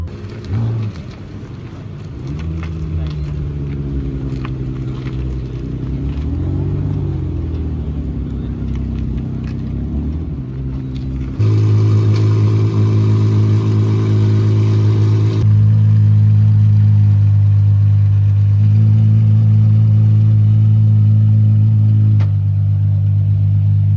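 A loud, deep Bugatti Chiron variant engine roars and revs in a parade past crowds, holding a heavy rumbling drone that surges louder about halfway through and stays strong to the end.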